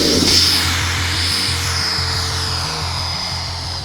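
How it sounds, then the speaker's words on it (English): An electric ducted-fan model jet whines loudly on an electric launcher at a fall fly-in, a high shrill tone over a pulsing low motor drone that fades slightly as it goes. "one of the club members built us this electric jet launcher, and it is a brilliant piece of engineering"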